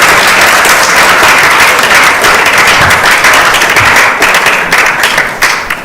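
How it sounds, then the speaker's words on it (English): Loud, dense applause from a gathered audience at a community talk on Vaishnava etiquette, a continuous roar of many hands clapping close by that thins slightly toward the end. "Please bring the round of applause."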